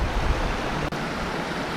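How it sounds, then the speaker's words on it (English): A small waterfall spills into a creek pool on a Pennsylvania stream, giving a steady, broad rush of falling water that stays constant and fairly close, with no talk over it. "What do you think about that pool right there? Coming off the little waterfall."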